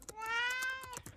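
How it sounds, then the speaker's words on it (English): Cat in a video game gives a single clear, drawn-out meow with a rising then falling pitch, close and prominent over faint clicking in the background. "Oh, look. A kitty cat."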